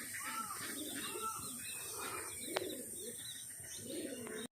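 Soft, throaty pigeon coos repeat close by after a bird lands, with a few chirps and a sharp click mixed into steady outdoor background hiss.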